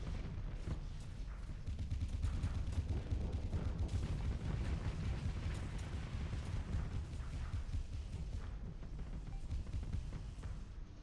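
Spaceship weapons fire away in sustained volleys in the Starsector video game, a quiet but unbroken rumble of overlapping shots and muffled booms lasting several seconds with no pauses.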